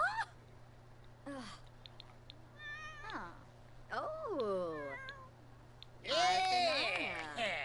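A cat in The Sims 4 meows repeatedly, several distinct rising and falling calls spread across the span with a louder, drawn-out meow near the end, while game voices chatter and someone briefly exclaims.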